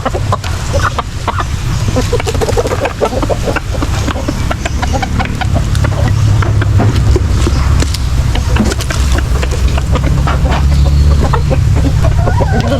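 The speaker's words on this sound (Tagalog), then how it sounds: "Ngayon tayo ulit sila yung papakain na ng manok." A flock of backyard chickens clucks busily while being fed at feeding time, with a rooster among them. The clucking is constant and close, and a little faint human sound mixes in.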